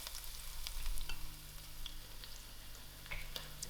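Onions fry softly in a pan, a faint steady sizzle with occasional light pops and ticks, heard close and alone without speech.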